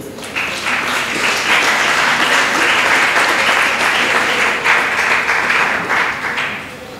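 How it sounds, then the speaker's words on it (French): An audience at a talk on Congolese women breaks into sustained, dense applause, loud and even for the whole stretch with no speech over it. "Si nous pouvons l'applaudir ici."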